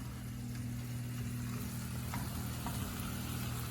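Shrimp being mixed with spices in a hot pan, a steady sizzle with faint scraping and occasional clinks, continuous throughout under a low background hum.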